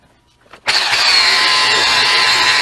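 A single action polisher whirs up abruptly and holds a loud, steady high-pitched motor whine while buffing an old, scratched motorcycle windshield.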